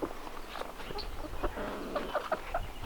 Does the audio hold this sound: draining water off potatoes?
no